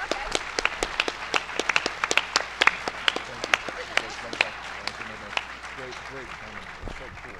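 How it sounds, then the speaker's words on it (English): Conference audience applauding panelists after a discussion, scattered distinct claps from a modest crowd that thin out and give way to voices chatting near the end. "please, a round of applause for these wonderful panelists,"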